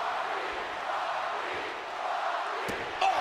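A wrestling arena crowd in WWE 2K24 roars steadily, a loud, sustained wash of cheering with a few sharp thuds and a shout near the end.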